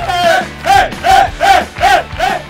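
A crowd at the final of a summer youtuber football cup cheers rhythmically in five loud, evenly spaced surges, with a chant-like swell in each burst and no clear applause separated out.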